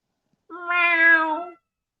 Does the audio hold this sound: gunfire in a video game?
no